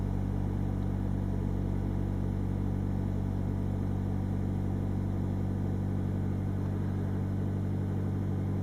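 A car engine idles steadily just after a new O2 sensor has been fitted, giving a constant low hum with a smooth, unchanging tone, close and alone for several seconds without talk.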